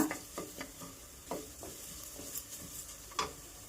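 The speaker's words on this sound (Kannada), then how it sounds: "ಇವೆಲ್ಲ ಲೋ ಫ್ಲೇಮಲ್ಲಿ ಹುರ್ಕೋಬೇಕು. ಸ್ವಲ್ಪ ಫ್ರೈ ಮಾಡ್ಕೋಬೇಕು" Coriander and mustard seeds roast on a low flame for Melkote-style puliyogare: soft, irregular stirring taps and scrapes over a faint, low sizzle, close and quiet.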